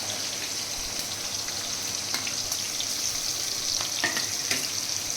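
Onion paste fries in oil until brown for a fish curry, a steady crackling sizzle with occasional sharper pops and light stirring clicks, close and unbroken, no voices.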